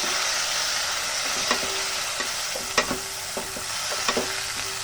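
Tomato puree sizzles in a pan with fried garlic and ginger, a loud continuous frying hiss punctuated by several sharp scraping stirs.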